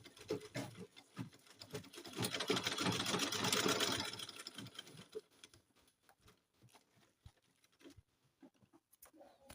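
A sewing machine stitches fabric for a turban gele, a rapid mechanical chatter that builds for a few seconds and then gives way to scattered handling taps and soft rustling.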